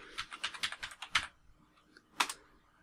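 Someone types a short chat command on a computer keyboard: a brisk run of keystrokes, a brief pause, then a couple more taps, close and fairly quiet.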